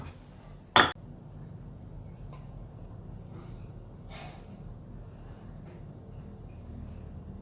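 Food is plated with utensils and dishes for rice with creamy scrambled egg and chili paste with pork cracklings: one sharp metallic clink near the start, then only faint, quiet rustling over a low background hum.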